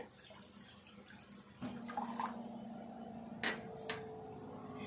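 Water is poured into sugar for syrup, a steady close trickle that grows fuller partway through, with a brief knock or clink of a vessel.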